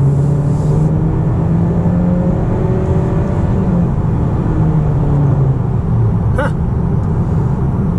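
A 2019 Honda Accord Sport with the 1.5L turbo engine pulls hard under full throttle, its steady loud engine drone rising in pitch through the run with road and wind roar inside the cabin, no voices.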